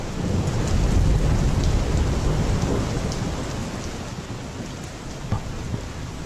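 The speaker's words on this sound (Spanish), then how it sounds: "Hacía frío y llovía cántaros." Steady heavy rain with rolling thunder from a thunderstorm, used as a sound effect in a radio piece; a dense continuous downpour with low rumbles, loud at first and easing slightly, with no voices.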